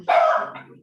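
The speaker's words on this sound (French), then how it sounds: "Maintenant, c'est le chien, on est bien." A dog gives a single short, loud bark up close, a sharp yelp that falls away quickly.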